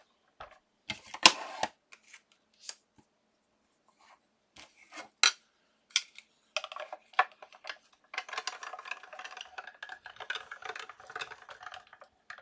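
Paper is cut out with scissors in a quiet room, a series of soft, sharp snips and rustles coming in irregular bursts, faint and close, with the handling growing busier toward the end.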